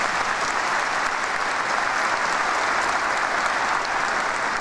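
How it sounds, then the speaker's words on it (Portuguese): A church congregation at a Pentecost celebration in Londrina applauds, an even, continuous roar of many hands clapping that holds steady throughout without talk. "Vamos aplaudir essa palavra que é profética para nós."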